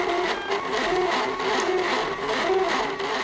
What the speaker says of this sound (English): The printing process takes about 15 minutes.